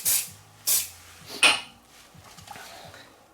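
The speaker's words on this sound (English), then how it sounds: "we're going to spray this paper" Three short, sharp hissing bursts of aerosol adhesive sprayed onto paper, close by, followed by quieter handling noises.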